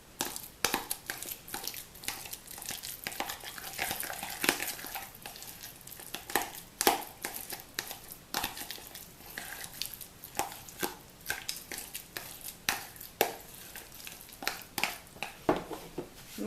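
Mashed avocado for a hair mask is stirred in a bowl at close range, making soft, irregular wet squelches and clicks with no voices.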